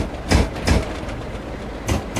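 A British Rail Class 37 diesel locomotive, 37409 in Regional Railways ScotRail livery, runs in a Roblox railway game. Rhythmic clattering wheel beats thump over a steady low rumble, with no voices.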